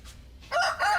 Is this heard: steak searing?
no